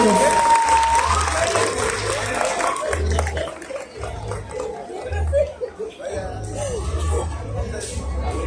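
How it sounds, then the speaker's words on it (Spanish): Loud applause from an audience welcomes a children's folk dance group taking the stage, clapping strongest at first and thinning later, mixed with crowd chatter, chuckles and a presenter's voice. "Fuerte el aplauso, aún más fuerte el aplauso para estos pequeñitos."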